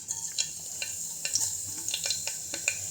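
Ground fennel and cinnamon go into hot oil, giving a steady crackling sizzle with scattered sharp pops and soft stirring scrapes in the background.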